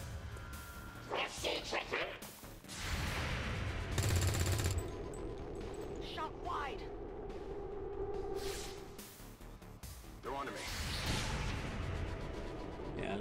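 Shots ring out in XCOM 2 combat, several sharp gunfire bursts and whooshing impacts scattered through the scene, with a person talking over much of it.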